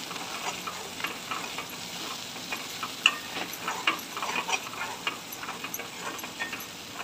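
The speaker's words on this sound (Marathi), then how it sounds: "1 चम्मच हळद, 2 चम्मच मिरची पावडर, 1 चम्मच धना पावडर, 1 चम्मच गरम मसाला। छान प्रकारे मिक्स करून घेऊया।" Turmeric, chili powder, coriander powder and garam masala are stirred in a pan for palak paneer, with a soft sizzle under repeated scraping clicks of a spoon.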